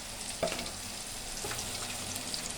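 Beef coated in turmeric sizzles in a pot as garlic paste goes in, a steady close frying hiss with a brief clink near the start.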